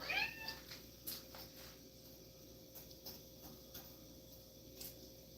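A house cat meows once near the start, a short, faint, high call close by in a quiet room, followed by soft ticking and light rustling with no talk.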